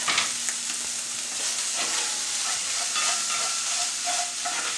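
Butter melting over corn in a hot pan, a loud, continuous sizzling hiss with faint scraping stirs, close and steady throughout.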